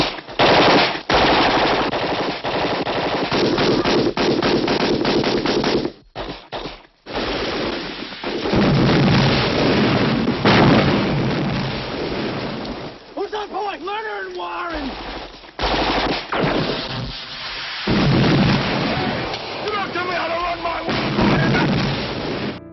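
Intense Vietnam War battle with Viet Cong ambush and errant artillery strikes: dense, loud machine-gun fire and gunshots with heavy explosive booms, near and chaotic, broken by brief gaps, with shouted voices heard amid the fighting.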